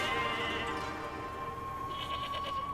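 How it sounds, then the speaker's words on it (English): A sheep from the game Catherine bleats in one drawn-out, wavering call, loud and close over a steady electronic tone and game background. "It's one of the sheep from Catherine."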